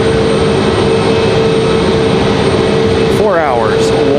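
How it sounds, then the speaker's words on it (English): A Copa Airlines jet airliner on final approach into Raleigh-Durham airport makes a loud, steady engine roar with a constant whine, and a voice speaks over it near the end. "So there's our Copa Airlines again coming in from Panama City."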